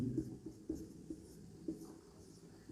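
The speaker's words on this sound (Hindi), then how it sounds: "तो पहले हम टॉपिक का नाम ही लिख लेते हैं" Chalk or marker writing on a classroom board during a Hindi grammar lesson, a few soft scratchy strokes with short taps, close and fairly quiet, with no talking.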